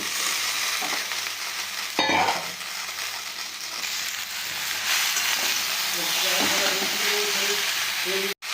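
Loud, continuous sizzling of vegetables and Malabar spinach stems frying in a hot pan, with a clatter of stirring partway through and a brief knock near the end.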